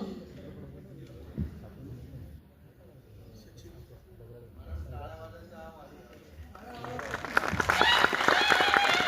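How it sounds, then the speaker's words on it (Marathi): Audience applause at a book launch, clapping rising from scattered hands to a fuller, louder burst toward the end, with someone speaking over the room beforehand. "आपल्या सर्वांच्या टाळ्यांचा आवाज या ठिकाणी"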